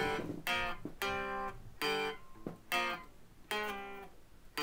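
Guitar plays a riff: rhythmic groups of sharp, bright power-chord stabs, close and clean, with no talking.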